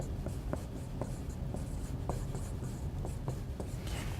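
A pen writes numbers on paper, a series of soft scratching strokes with short taps at a fairly even pace, close and quiet with faint room hum beneath.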